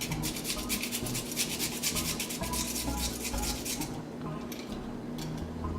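Daikon radish is grated on a small grater in a kitchen, a steady, dense scraping rasp heard close and continuous, easing off slightly near the end.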